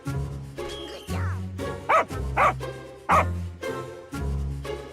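Dog barking in a cartoon scene, several sharp yips and barks spaced irregularly, loud and close, with a short whimpering sound mixed in.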